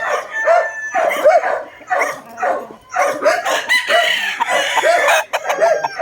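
A Boston Roundhead gamecock crows and clucks close by, with repeated rhythmic calls and bursts of crowing; other birds or a dog can be heard faintly in the background.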